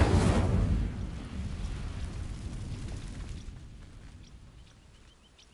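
In Hogwarts Legacy, the Incendio fire spell ignites dry vines with a whooshing burst. A crackling, rushing burn follows and slowly dies away, with faint chimes near the end.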